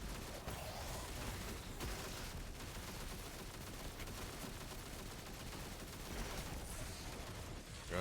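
Gunfire in the video game Destiny 2: a dense, steady barrage of rapid shots and combat noise that holds at an even level throughout, with no talk.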